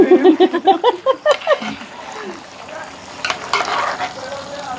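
A spoon stirs and scrapes beef roast in a hot pan with a soft sizzle, after a brief stretch of talking at the start.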